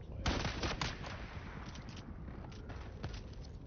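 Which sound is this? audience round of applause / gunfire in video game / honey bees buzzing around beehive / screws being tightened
gunfire in video game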